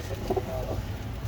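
A pigeon coos softly at close range, a few low murmuring notes over a steady background hum, among ornamental pigeons of several breeds, including a belled variety, kept at a loft.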